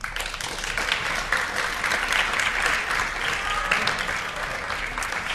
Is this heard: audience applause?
yes